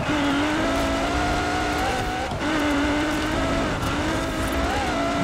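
A car in Forza Horizon 4 labours through a muddy stretch of a race, its engine holding a steady strained drone that rises and dips in pitch, with loud constant road noise and no break.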